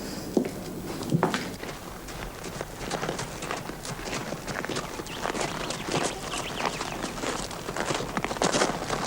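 Horse hooves clip-clop at a walking pace in a radio drama scene, repeated soft knocks spread across a busy, cluttered background with faint voices.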